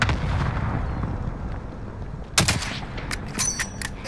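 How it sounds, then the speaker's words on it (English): Cluster strike artillery in Call of Duty: Modern Warfare sets off a rumbling barrage, then a sharp close blast followed by a rapid string of cracking explosions. "Enemy cluster strike."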